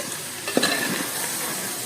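Chicken curry with fresh coriander is stirred in a hot pan, with a steady close sizzle and one soft scrape of the spoon against the metal.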